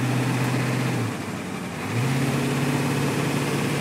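The 7.3L IDI diesel engine of a 1989 Ford E-350 idles close by with a steady low rumble, dipping briefly in pitch before settling back to an even chug.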